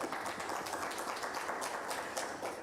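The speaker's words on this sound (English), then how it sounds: "I think I want to hear more claps." Steady applause from an audience at a banking and financial services institute event, a dense wash of many hands clapping at a distance, fairly soft and continuous with no voices over it.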